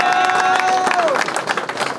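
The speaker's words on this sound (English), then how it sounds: "clap it up, y'all." A crowd at a rap battle cheers and claps loudly for about two seconds, with voices shouting over the dense applause.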